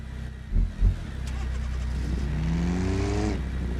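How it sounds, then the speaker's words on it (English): Car engines in the driving game BeamNG revving and pulling away, pitch rising as they accelerate, following a couple of low thumps at the start. "Vehicles are starting to leave."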